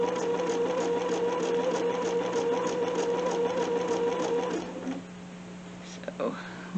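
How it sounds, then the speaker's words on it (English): A Bernina 770 sewing machine runs steadily while stitching a quarter inch quilt seam, a close, even mechanical whir with a soft voice talking over it before the motor stops near the end. "on my Bernina 770 and I'm just taking the fabric right along the edge of the foot"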